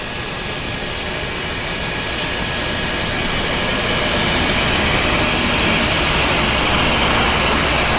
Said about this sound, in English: 3 airplanes on the move.